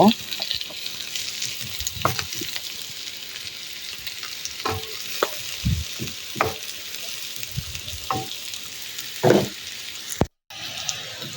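Bitter gourd and ginger fry in a pan with a continuous sizzle, broken by spatula knocks and scrapes at irregular intervals and a brief cutout near the end.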